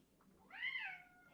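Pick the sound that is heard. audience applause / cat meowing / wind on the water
cat meowing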